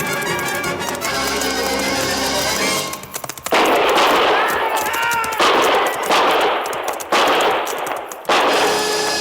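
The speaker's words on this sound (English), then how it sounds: "I knew from the sound of that first volley what had happened." Volley of rifle gunfire in an old Western frontier radio drama set in a canyon, loud bursts of rapid overlapping shots that echo, with brief pauses between volleys and no talking.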